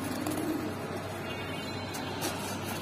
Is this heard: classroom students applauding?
no